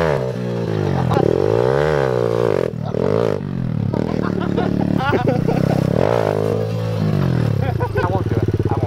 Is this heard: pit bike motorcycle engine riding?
yes